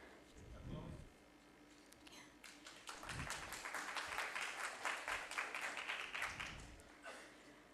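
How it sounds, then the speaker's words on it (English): Audience applause for a team's presentation at a grand finale event, a sustained burst of clapping that swells after a short pause and carries for several seconds before tapering off. "Let's give a round of applause to Team Air 1 for their outstanding presentation"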